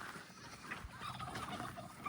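Faint turkey gobbling, a quick warbling call, rises from a quiet outdoor background with distant bird noise.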